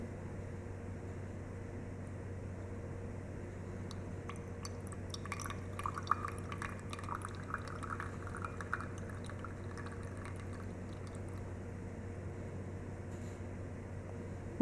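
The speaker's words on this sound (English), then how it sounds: "And we'll wait till the flow of water stops." Water overflowing from an overflow can into a side beaker as an object sits submerged in a buoyancy demonstration, faint trickling and dripping under a steady background hum that thins out toward the end.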